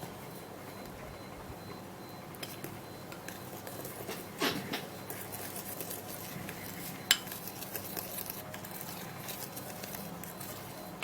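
A homemade teeth whitening mixture is stirred in a small container, producing soft, irregular scraping and light clinks of a utensil against the dish, with a couple of sharper taps, close and fairly quiet.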